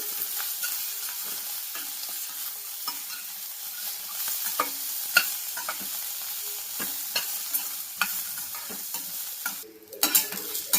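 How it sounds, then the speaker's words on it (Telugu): Peanuts and green chillies fry in oil in a pan with a steady close sizzle, broken by scattered sharp clicks and scrapes as a utensil stirs them. No one talks. "పల్లీలు పచ్చిమిర్చి అయితే మంచిగా ఫ్రై అయింది కదా"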